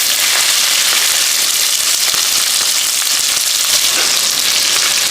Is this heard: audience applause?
no